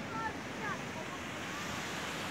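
Water of the Yeşilırmak river rushes steadily at the second dam near Çarşamba, a constant broad roar mixed with some wind noise.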